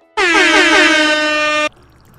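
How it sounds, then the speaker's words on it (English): A loud, sustained air horn blast lasting about a second and a half, harsh and brassy, cutting off abruptly into quiet, in commentary on the game Stardew Valley. "Insert air horns."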